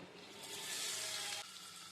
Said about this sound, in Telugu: మసాలాలు పట్టించిన పన్నీర్ ముక్కల్ని వేసుకొని వేయించుదాం